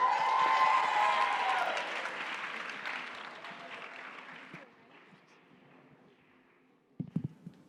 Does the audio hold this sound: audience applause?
yes